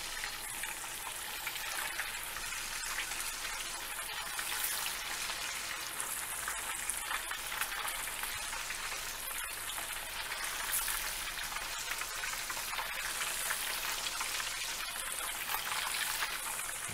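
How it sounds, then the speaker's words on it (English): Battered crappie frying in hot oil, a steady dense hiss and crackle of bubbling oil that holds evenly throughout with no talking. "Yep, oil's still hot. That's cooking in there real quick."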